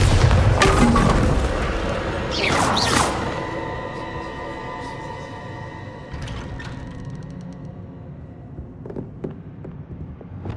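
Bombarda explosion spell in Hogwarts Legacy: a loud booming blast up front, then a second whooshing burst, fading into a ringing, sparkling tail with a few softer pops later on.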